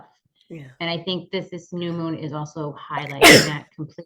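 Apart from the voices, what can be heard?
sneeze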